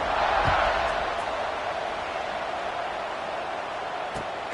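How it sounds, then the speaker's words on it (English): A college football crowd at Florida State vs Georgia Tech buzzes loudly after a score as the kickoff nears, a steady broad roar with a few brief whoops and thumps rising out of it. "this crowd is buzzing after that last score"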